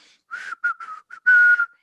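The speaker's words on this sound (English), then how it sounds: "if you whistle and you do a little whistle, that wasn't a good whistle" A series of short whistled notes in quick bursts, then one longer sustained whistle, close and fairly clear with no talking.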